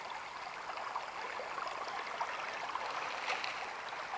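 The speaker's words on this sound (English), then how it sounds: "We got this creek here." A small forest creek in Bankhead National Forest trickles and burbles steadily, a soft continuous babble of flowing water heard up close with no talk.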